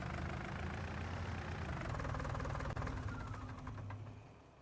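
Vintage McCormick Deering W9 tractor engine in Farming Simulator 19, a steady low idling rumble with a faint knocking texture that holds close and constant, then tapers slightly near the end, with no talking.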